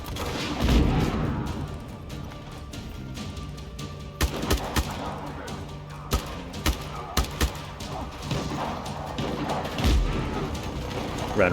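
A heavy gun fires in a video game as a run of short, sharp booms at an even rhythm, set against continuous game noise and mechanical clatter.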